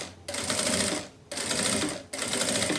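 A sewing machine stitches a plastic-canvas beach bag in three close, steady whirring runs separated by brief pauses.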